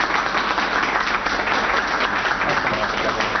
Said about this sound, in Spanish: Un aplauso al Papa.